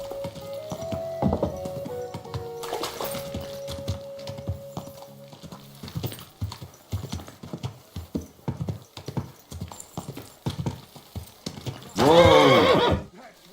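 Horse hooves clip-clopping in a steady rhythm through most of the stretch, ending with a loud whinny, from the video game Kingdom Come Deliverance II, with tones and some background sound early on.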